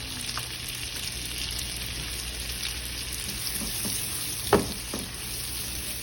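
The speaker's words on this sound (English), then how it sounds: "We'll do a little of the peppers and onions first. We'll cook that up until it's aromatic" Peppers and onions frying in a skillet, a steady close crackling sizzle with scattered pops and one sharp clatter of a utensil near the end.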